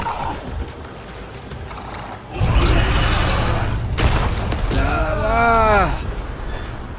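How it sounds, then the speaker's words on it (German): Gunfire in the horror video game Until Dawn: loud, dense bursts of shots and booms that swell into a sustained roar, with a brief rising cry near the end. "So, und jetzt drauf schießen."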